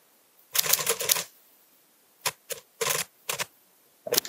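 Typewriter keystrokes used as a sound effect for a typing-text animation: a quick burst of clacks, then several short isolated strikes spaced apart, crisp and close with no talk.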